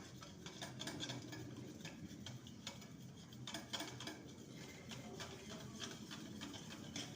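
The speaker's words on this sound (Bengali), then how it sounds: "প্রথমে এই ডিম গুড় আর রিফাইন অয়েল এটাকে ভালো করে ফেটিয়ে নেব" Eggs, jaggery and refined oil whisked together for a molasses cake batter, quick rhythmic clicks of the whisk against the bowl, faint and close, repeating steadily with no voices.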